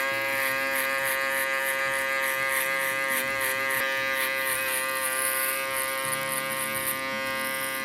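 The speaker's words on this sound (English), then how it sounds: "Now using my electric shaver to get that much closer to the scalp." An electric shaver runs against the scalp while trimming hair close during a taper fade haircut, a continuous nearby buzzing hum with slight shifts in pitch as it moves.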